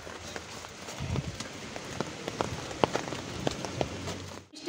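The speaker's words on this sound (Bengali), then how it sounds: "এখন বৃষ্টি পড়ছে" Rain falls outdoors with a dense, continuous patter and scattered sharper drops landing on surfaces nearby.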